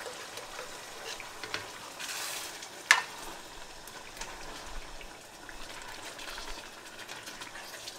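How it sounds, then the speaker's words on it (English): Steady hissing sizzle of barbacoa sauce bubbling hard in a pan on high heat, with a sharp click near the middle and faint stirring noises. "I have this on high heat so it can start boiling quick."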